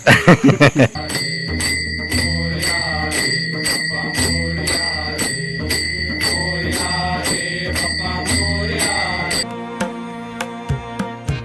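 A bell rings steadily and rapidly through a Ganpati aarti at a home in Konkan. The ringing is loud and continuous for several seconds, then gives way to a few separate strikes, with no talking.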